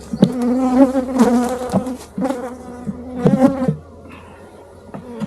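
A good-sized swarm of honey bees pours out as frames are lifted from an opened hive, a dense, loud buzzing drone with rising and falling swells of wingbeat hum close to the microphone.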